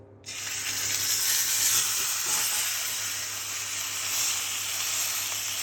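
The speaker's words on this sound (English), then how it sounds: "Once your pan's nice and hot, add some oil. Add your steak." A steak hits a hot oiled pan and a loud, close sizzle erupts at once, then holds as a steady hiss for several seconds.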